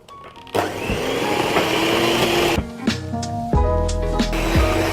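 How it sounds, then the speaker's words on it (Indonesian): Electric hand mixer beating butter, sugar, salt and vanilla into a creamy red velvet cookie dough, a steady loud motor whir with bowl rattle and shifting pitch, no talk. "Ini kita kocok sampai teksturnya itu lembut creamy."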